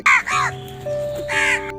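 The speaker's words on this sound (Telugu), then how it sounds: "మీ ఇంట్లో కూడా కాకి అరిస్తే" A crow caws loudly and harshly, two quick calls close together at the start and another a moment later, with a faint steady hum running underneath.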